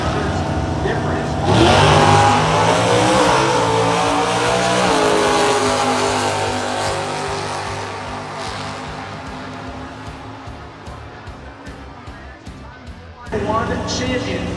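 At an NHRA drag strip, a Corvette and a big block Camaro launch with a loud, swelling engine roar that fades into the distance, then another engine rises near the end, with an announcer talking over it.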